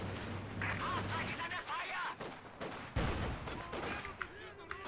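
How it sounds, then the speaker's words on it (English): Anti-tank gun rounds fired at a half-track in a real-time strategy match, sharp repeated shots and battle booms layered over ongoing combat noise, with a commentator talking throughout. "Anti-tank gun getting some more shots in on the half-track."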